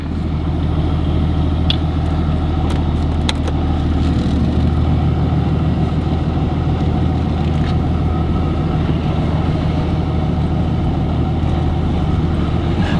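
A Ram pickup truck with a replacement transmission drives along, heard from inside as a steady, loud low engine and road drone with faint higher whine and occasional light rattles.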